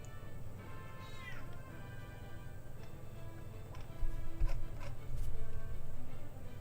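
A pet cat gives a single rising meow while being petted, fairly close, against a steady background of game or stream noise with light ticking and rustling.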